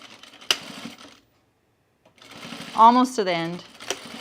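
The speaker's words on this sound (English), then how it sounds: "And now I'm going to sew across again." A sewing machine stitches across a seam on a men's Sierra fleece pullover, one short run of rapid mechanical whirring after a pause, with a person talking over it.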